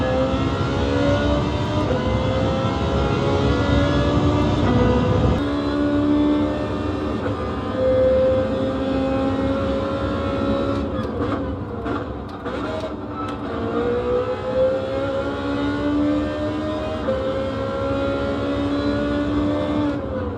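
Racing video game car engines play through a Samsung HW-S60B soundbar in DTS mode, loud and continuous, with rising and falling revs and gear-change pitch sweeps, one sharp drop near the start and brief clicks midway.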